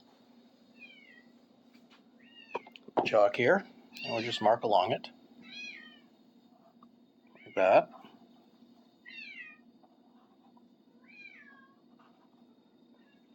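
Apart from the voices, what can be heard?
cats crying in the background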